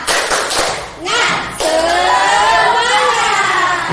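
A primary school class performs the tepuk semangat spirit clap, a short burst of loud, tight group clapping and shouted chanting at close range, following a quick count-in.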